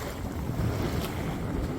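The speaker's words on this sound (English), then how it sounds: "we've got 17 knots of wind coming in from the east" Steady wind of around 17 knots gusts across a sailboat lying at anchor off Martinique, a moderately loud rushing buffet with microphone rumble and faint water movement beneath.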